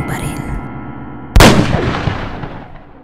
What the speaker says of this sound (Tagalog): Biglang umalingaw-ngaw ang putok ng isang baril.